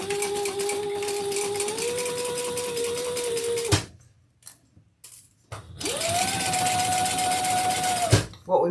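A sewing machine stitches a seam in two long steady runs of whirring motor hum and rapid needle clatter, separated by a short quiet pause with faint handling sounds, close and loud.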